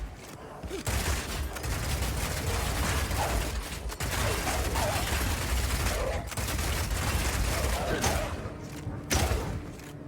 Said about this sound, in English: Rapid shot is great for closing on enemies because you can shoot while running